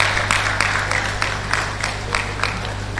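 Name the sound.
applause at an induction ceremony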